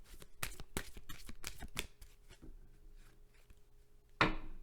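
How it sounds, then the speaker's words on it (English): Rapid riffle of cards being shuffled, a burst of crisp flutters followed by softer handling, ending with a sharp snap as the deck is squared. "I just split the deck to shuffle"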